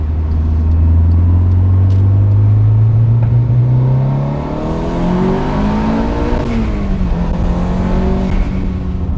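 A tuned 510 wheel-horsepower Volkswagen Golf R engine revs hard, its pitch climbing steadily, easing off, then surging again in another rising pull, close and sustained.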